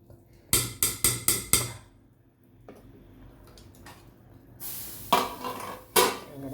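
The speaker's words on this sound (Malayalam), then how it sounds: "ഇനി നമ്മളിതൊന്നുകൂടെ അടച്ച് വെക്കുക അല്ലേ" A metal lid is handled and set on a pot of simmering chicken curry, giving a quick run of sharp clanks followed later by a few more metallic knocks and rattles.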